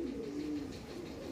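A pigeon coos softly in a low, wavering murmur that drifts steadily over faint background noise, quiet and close, with no voices.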